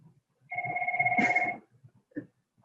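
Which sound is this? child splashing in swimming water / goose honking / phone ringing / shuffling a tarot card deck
phone ringing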